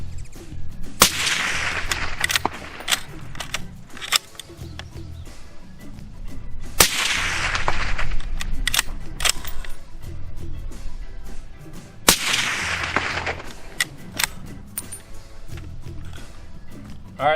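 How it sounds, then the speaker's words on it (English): Suppressed .30 caliber rifle shots fired in a canyon, three sharp cracks spaced several seconds apart, each followed by a long rolling echo off the rock walls, with faint talk in between. "Camera's probably going to clip on the actual gunshot, but that echo might give a better understanding of which"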